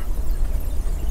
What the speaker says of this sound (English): One of the bombs is getting close.